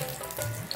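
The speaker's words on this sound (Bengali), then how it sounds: "পাঁচফোড়নটা ভাজা ভাজা হয়ে গেছে" Dried red chilli, bay leaf and panch phoron frying in a little oil, a soft steady sizzle heard close up with no talking.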